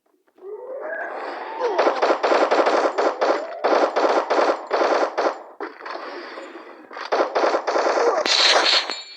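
Automatic gunfire in the Free Fire shooting game rattles off in loud, close bursts, several rapid strings separated by brief pauses, with a sharp shot near the end.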